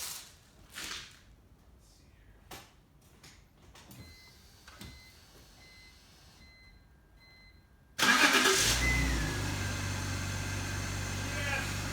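A few scattered clicks and clunks, then a BMW with a crank-no-start fault cranks and catches, settling into a steady loud idle that continues to the end.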